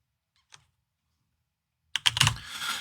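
Typing on a computer keyboard: one faint isolated click, a silent pause, then a quick close cluster of keystrokes near the end.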